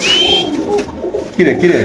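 Pigeons coo close by at a pigeon farm in soft, throaty bursts, with a faint whistling call at the start and some background voices.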